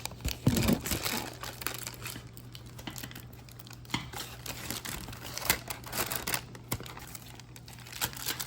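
Scissors cut through a laminated paper snowman keychain craft, giving close, irregular crinkling snips and rustles over a low steady hum.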